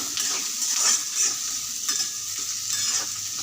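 Onions frying in hot oil, a steady close sizzle with the scrape of stirring repeating every second or so throughout, no voices.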